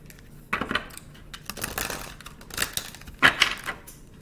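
Crisp clicking and riffling bursts of cards being shuffled, several quick flurries in a row, close and fairly loud with no talking.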